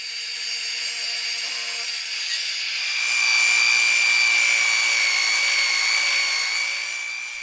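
A power saw rips three wooden deck balusters glued together with epoxy lengthwise, a loud close high whine that steadies, rises as the blade bites into the wood, then eases toward the end.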